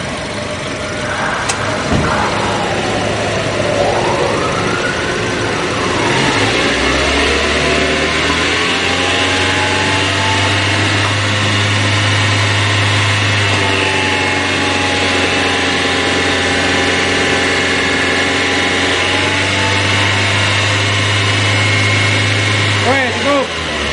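A car engine idles loudly up close, then revs and holds at raised speed to build pressure to 15, its pitch climbing and sustaining before settling back, with a pressure-gauge session going on around it.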